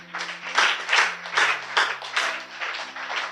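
Audience applause at a church finance talk, a steady burst of clapping with rhythmic swells, fairly close and full, no talking over it.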